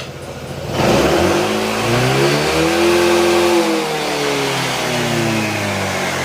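A remapped Honda ADV 160 scooter engine idles briefly, then is revved hard into a loud sustained high-revving drone that rises and falls while held up close.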